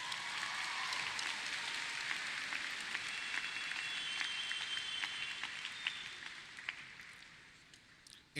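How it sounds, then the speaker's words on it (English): Crowd applause at a Kettle Run High School graduation ceremony for the class of 2026: a broad, steady wash of clapping from a large audience that holds for several seconds and then gradually thins toward the end. "Please give him another round of applause."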